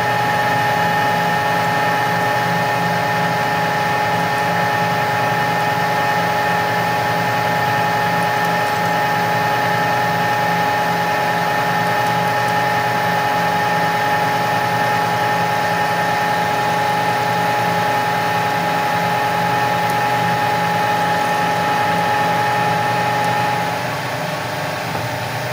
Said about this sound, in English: Let's cut that thread at number 1.